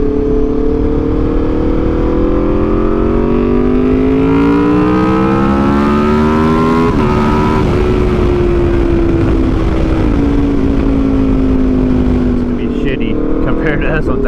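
An Aprilia RSV4 motorcycle engine revs loud and close, a continuous harmonic drone whose pitch climbs and settles across several throttle blips.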